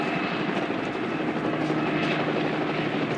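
A helicopter flying over Newhall, carrying a wing walker at an airshow, gives a steady, loud, continuous rotor and engine roar that holds without a break.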